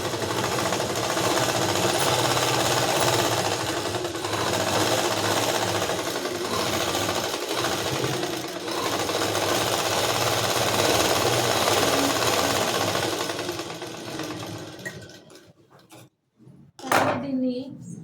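An electric sewing machine stitches the back part of a blouse with a fast, steady whir for about fourteen seconds, then slows and stops, followed by a few handling knocks.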